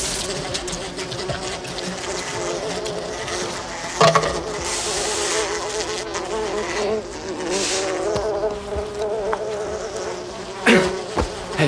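Dense, continuous buzzing of a swarm of killer bees in an action film, droning steadily throughout with scattered knocks and brief louder hits, while people talk urgently over it.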